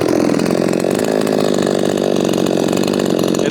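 A repaired, ported Efco 165 chainsaw running at full throttle, a loud, close, continuous high-revving buzz that stays steady throughout with no voices over it.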